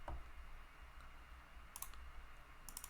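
A computer mouse clicks at a desk during work in Tableau Desktop, with a quick pair of clicks near the end and a few faint ticks earlier, all quiet and close.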